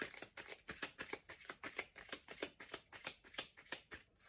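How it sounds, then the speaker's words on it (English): A deck of cards is riffled and bridged in a rapid, steady flutter of crisp snaps, close and alone with no talking. "Okay, we'll do one last shuffle."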